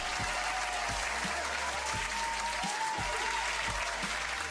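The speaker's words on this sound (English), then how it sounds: "clap that up" Audience applause inside the Mary Birch Theater at Essex County College during a live show saluting survivors: steady, dense clapping throughout with some crowd noise and a few low thumps, loud and close.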